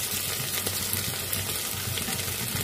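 Chopped tomatoes landing in a pan of potatoes frying in oil for spicy khichdi, giving a dense, even hiss of sizzling that stays loud and steady throughout with no voices.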